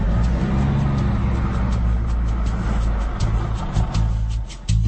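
A car drives through the Valley of Silence in Spain. The cabin carries a loud, steady road and engine rumble with faint repeated ticking above it, and no voices.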